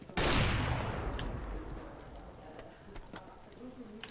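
Gunfire in a shooter video game on the map Nuke opens with a loud burst that trails off, followed by scattered faint clicks and ticks in the background.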